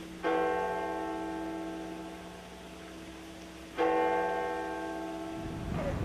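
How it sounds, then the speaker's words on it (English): Church bells of Hillerød Castle (Frederiksborg) ring out in two loud, resonant strikes with long sustained humming decays, heard alone outdoors with a faint low background rumble at the end. "At 1600, the bells of Hillerud Castle ring out for the final in the Frederiksborg Centre."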